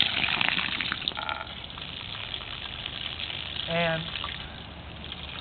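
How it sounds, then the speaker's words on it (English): Water and oil gush from a pipe through a pressure relief opening, a steady rushing broadband flow that runs throughout, with a voice speaking briefly over it. "the pressure of the water or the oil is coming out of the pressure relief where the plumb bob comes in, and we still have oil coming out of the pipe"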